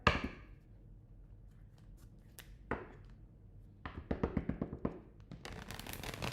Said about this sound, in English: One more shuffle, Heather.